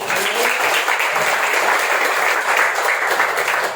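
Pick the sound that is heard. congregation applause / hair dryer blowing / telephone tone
congregation applause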